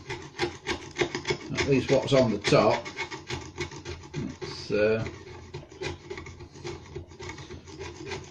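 Repeated rough scraping strokes rasp across a surface as paint is scraped off by hand in chunks, close by, in an uneven rhythm while someone talks quietly.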